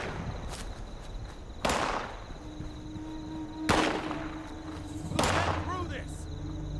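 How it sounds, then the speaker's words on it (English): Three sharp gunshots crack out in a Fallout 76 wasteland at roughly even intervals, each a loud broadband burst with a short decaying tail over steady outdoor ambience. "Who's shooting?"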